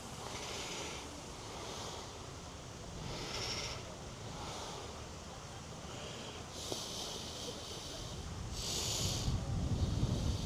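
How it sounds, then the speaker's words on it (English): Water laps gently against a shore outdoors, a soft, continuous wash with brief surges and some wind noise on the microphone, fairly faint throughout and without speech. "I love the noise the water makes."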